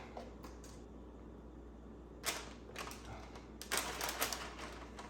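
A spoon scoops thick brownie batter into a baking dish, making a scattering of short scraping clicks and taps that cluster into louder bursts near the end, close by with no talk.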